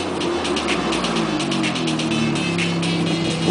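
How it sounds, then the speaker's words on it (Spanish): A white Ferrari passes along Rodeo Drive in Beverly Hills, a steady engine drone rising over a busy street background with traffic noise throughout. "Ahí viene un Ferrari blanco."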